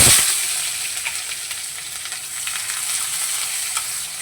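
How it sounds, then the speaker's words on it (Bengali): Onions drop into a hot nigella seed tempering, bursting into a loud sizzle that settles into a dense, crackling fry with light stirring and no speech. "প্রথমে দিয়ে দিচ্ছি দেখো ফোড়নের মধ্যে বেশ কিছুটা পেঁয়াজ।"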